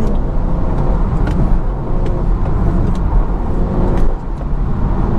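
A BMW F30 340i with a catless downpipe pulls hard from inside the car, its engine and exhaust droning loud and steady with road noise underneath.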